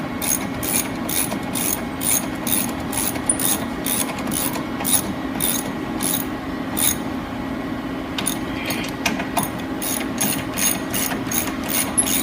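Ratchet wrench tightening frame bolts during a Power Arm suspension install: a continuous run of quick, close clicking pawl strokes in a steady rhythm, with brief pauses and a faint background hum.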